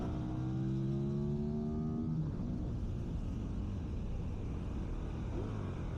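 Ducati 916 motorcycle engine on a race track, revving hard through rising gear changes with the clutch slipped slightly, its tone climbing, dropping and climbing again, loud and close with steady wind and road roar throughout.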